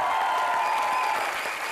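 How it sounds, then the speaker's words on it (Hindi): A studio audience on a Hindi comedy show breaks into a dense, steady wash of applause, a continuous crowd roar of clapping that holds evenly for a moment. "एक बार जोरदार तालियां हो जाए।"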